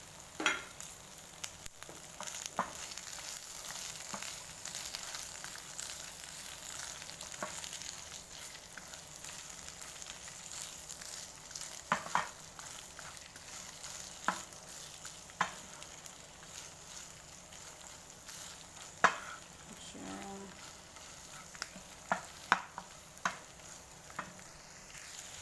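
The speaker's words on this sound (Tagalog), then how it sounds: "Haluin lang natin guys hanggang sa medyo maluto yung ating hipon." Shrimp frying in garlic butter over low heat, a steady soft sizzle with occasional scrapes and clinks as it is stirred in the pan.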